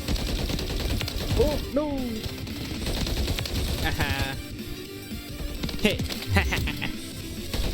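Rapid bursts of gunfire from a 20-round-magazine gun in a Call of Duty match, sharp repeated shots throughout, with a player talking over the action.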